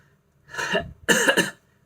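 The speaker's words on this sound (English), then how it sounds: "the cough important symptom is cough on deep inspiration" Two short, harsh coughs, close and clear, the second sharper and split into a quick double burst, with quiet between them.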